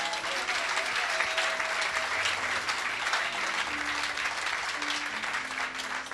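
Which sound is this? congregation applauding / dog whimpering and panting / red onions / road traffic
congregation applauding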